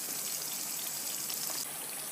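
Leftover-rice finger rolls frying in oil over a low flame, a soft, steady hiss and fine sizzle close by, faint and even throughout with no talk.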